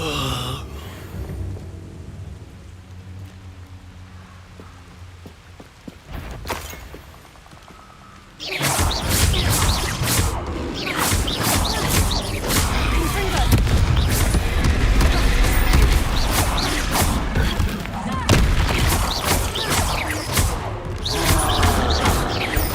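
Explosive spell blasts from Confringo and Expulso cast in a video game, a quieter stretch giving way to a sustained loud barrage of booms and crackling bursts that fills the rest of the scene.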